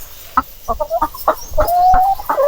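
Roosters clucking on a farm, a quick series of sharp, close clucks in an irregular rhythm, with no talk over them.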